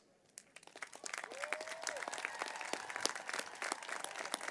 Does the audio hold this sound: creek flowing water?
no